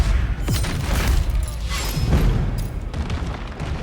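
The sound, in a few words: ship cannons firing heavy fire in video game Corsair Cove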